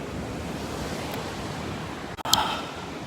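Steady roar of ocean waves and surf fills the air with wind buffeting the microphone, broken near the end by a brief sharp click and a short high squeak.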